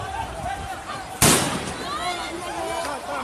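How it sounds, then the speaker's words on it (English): A single sharp, loud gunshot bursts out during a tense street scene, with people shouting and talking before and after it. "They are shooting, you can imagine."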